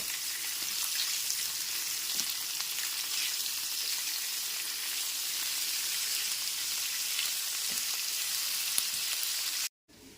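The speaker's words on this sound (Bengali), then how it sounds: "গ্যাসের ফ্লেমটা লো টু মিডিয়ামে রেখে পেঁয়াজ কুচিগুলো একটু লাল করে ভেজে নেব" Chopped onions fry in oil on a low-medium gas flame for a soya chunk curry, giving a steady, close hiss of sizzling that carries evenly throughout, with a few soft stirring ticks and a brief drop near the end.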